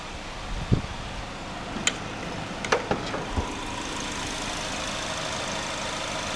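A used Chevrolet HHR engine idling, a quiet, steady low hum with a few faint clicks and taps early on and no talking.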